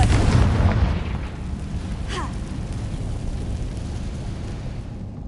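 A Confringo fire-blast spell explodes in Hogwarts Legacy with a loud initial boom that rolls into a long, fading rumble with a faint whooshing trail.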